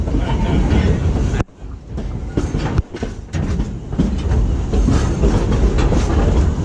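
Dollywood Express steam excursion train rolling steadily with loud, continuous rumble and rhythmic clickety-clack of wheels on rails, a brief dip in the noise partway through.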